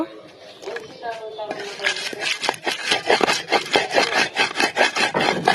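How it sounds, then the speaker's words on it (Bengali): Green chillies ground on a stone slab after mustard seeds, a rhythmic series of rough rubbing scrapes, close and fairly loud, after a brief voice at the start. "এখন আমি হচ্ছে কাঁচামরিচ গুলো দিয়ে বেটে নেব।"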